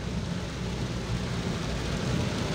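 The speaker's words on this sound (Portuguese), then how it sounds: "E a chuva caindo, e a chuva caindo." Steady rain falls on the BR-319 highway, a dense, even hiss with a low rumble underneath, continuous and fairly soft, with no talking.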